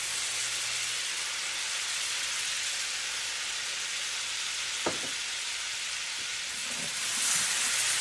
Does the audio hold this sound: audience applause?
no